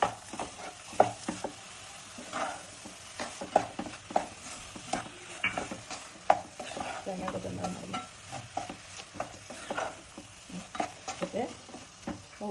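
A spoon stirring cardamom powder and nuts through a laddu mixture in a pan, with irregular scraping and knocking strokes over a low sizzle, close and fairly busy throughout.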